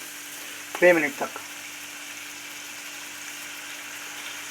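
Chicken lollipops fry in a tray over a high gas flame, a brief burst of sizzling and stirring near the start before the cooking settles to a faint, steady hiss, with a few spoken words.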